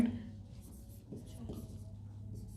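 A marker or chalk scratches across a classroom board in a few short, faint strokes, under low room hum.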